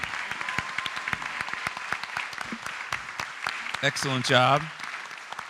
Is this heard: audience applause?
yes